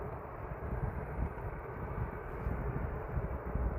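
Jet2 airliner passing over Manchester Airport in light drizzle, a steady broad engine roar that holds at an even moderate level throughout without fading.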